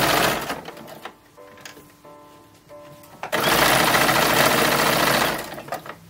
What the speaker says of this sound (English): for both bodices, we are now going to sew the backs to the fronts